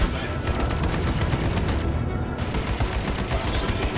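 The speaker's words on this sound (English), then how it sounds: "He's got locked. Missiles incoming." Missiles strike a ship in the space game Star Citizen, producing a dense, continuous barrage of rumbling impacts and crackling blasts that stays loud and steady throughout.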